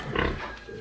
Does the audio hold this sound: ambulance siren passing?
no